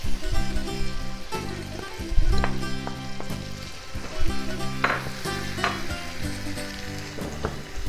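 Shallots frying in a pan over medium heat, a continuous close sizzle with occasional sharper crackles and spatters, heard under background music.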